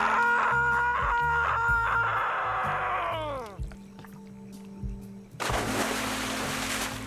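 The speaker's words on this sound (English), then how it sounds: "Water landing." A splash of a water landing in the video game 3 Minutes to Midnight bursts in near the end as a loud, broad noisy wash, following game music and sound effects that sweep downward and fade.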